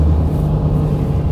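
A 1991 Acura NSX engine runs hard near 5,000 RPM as VTEC engages, a loud, dense low droning roar that holds steady through the whole short stretch.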